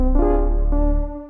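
A sustained piano chord with its notes rolled in quickly one after another like a strum, ringing out and fading over about a second.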